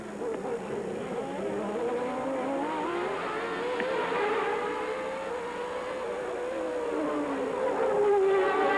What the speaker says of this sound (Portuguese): Vamos outra vez no carro do Berger